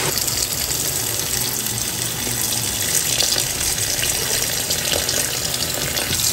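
Water pours steadily into a cooking pot while Bicol-style dinuguan is being prepared, a continuous close, full-bodied splashing gush that holds an even level for several seconds with no talking over it.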